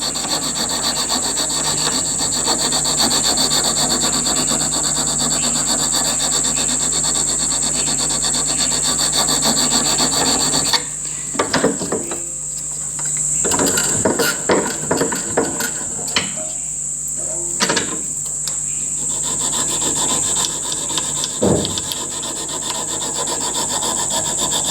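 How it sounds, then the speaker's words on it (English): A file being draw-filed across a metal part for a Titan .60 glow plug engine, a steady close rasping rub that runs continuously, then breaks into shorter separate strokes with pauses. "I'm going to use the process of draw filing."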